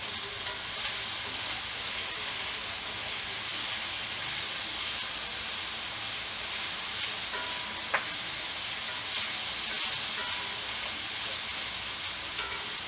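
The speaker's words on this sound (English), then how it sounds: "So I'm searing them in a little bit of olive oil" Store-bought precooked sausage sears in a little olive oil in a pot, giving a steady close sizzle and spatter with a faint clink partway through.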